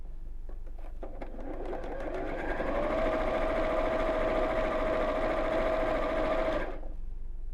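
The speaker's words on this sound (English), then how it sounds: "I'm just going to sew across that curved top edge." A sewing machine running steadily as it stitches across the curved top edge of fabric placed right sides together for a Christmas cone, a loud, even mechanical whir that starts up, holds, then stops abruptly.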